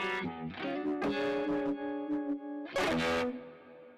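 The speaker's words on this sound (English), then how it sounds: "A great model in the effects is the Univibe." Univibe effect model on a Line 6 Helix processing an electric guitar: a few struck chords and ringing notes with a warbling, throbbing modulation, loud and close, with a brighter strummed chord near the end and no talking.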